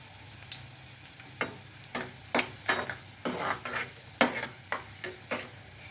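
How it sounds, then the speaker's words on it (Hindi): Garlic and mustard seeds crackle while frying in hot oil, a series of sharp pops and spits in an irregular rhythm over a low sizzle, close and fairly loud, with no talk. "और लहसुन डालते हैं। बहुत चिटकते रहता है,"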